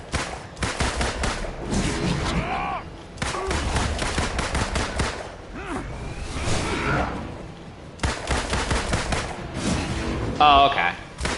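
Gunfire in the Marvel's Avengers video game, bursts of rapid shots and whooshes in several loud stretches separated by brief pauses, with a voice talking over it.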